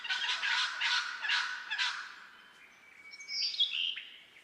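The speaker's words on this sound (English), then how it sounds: "This is a nectar-eating bird the size of a crow. It's the red wattlebird" A red wattlebird, a crow-sized Australian nectar-eating bird, gives a series of harsh, rasping bursts followed by a thinner, higher squeaky note, close and clear against quiet surroundings.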